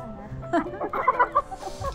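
Fowl cluck and call outdoors in nature at a staycation spot in Antipolo, giving a few short, mid-level bursts of bird noise with people talking in the background.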